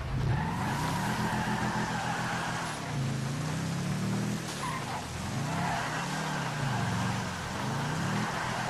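A car engine revs in GTA Online, a loud steady drone that rises and falls through several revving swells, with tire squeal over the top.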